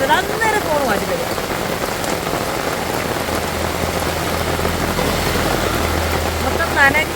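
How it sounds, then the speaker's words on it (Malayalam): Heavy rain pours down in a dense, continuous hiss of drops on surfaces, loud and steady throughout, with brief voices heard faintly at the start and end. "മൊത്തം നനഞ്ഞ് കുളിച്ചതാണ്. മഴയൊന്നും പ്രശ്നമില്ല."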